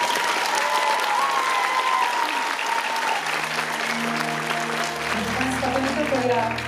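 Sustained applause from a concert audience fills the hall, dense and even, while a voice speaks through it and low musical tones rise underneath toward the end.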